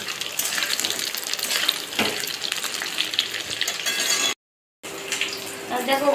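Egg-coated chicken pieces fry in a pan with a loud, continuous close sizzle and crackle, briefly cut by a moment of silence.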